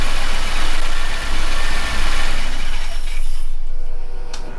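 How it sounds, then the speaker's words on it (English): A Mad Max-style Chevy engine, warmed up, runs at a steady high idle close by, a continuous loud rumble with no talk, easing off slightly near the end. "A little bit of high idle isn't bad, especially going into winter"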